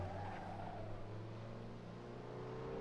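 Race car engine in the Assetto Corsa racing sim holding a steady, fairly quiet drone at constant revs, a continuous low hum throughout with no talk over it.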